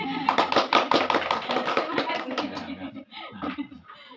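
A small group claps briskly for a few seconds, with some chuckling and talk mixed in as the clapping fades.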